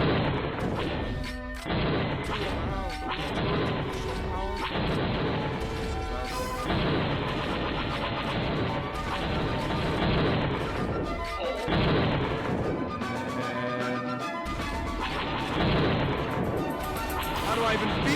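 Video game battle in Age of War with tanks and war machines, a dense, continuous barrage of booming artillery-like blasts, crashes and gunfire layered over game music, loud and unbroken throughout.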